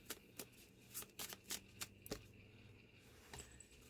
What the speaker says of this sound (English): I'm going to pull a couple more cards and we'll go from there.